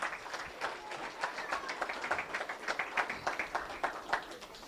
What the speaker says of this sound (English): let's give him one more big round of applause for our 250 wing class